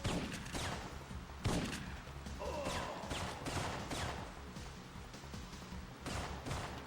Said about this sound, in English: Kill this guy for his shotgun ammo.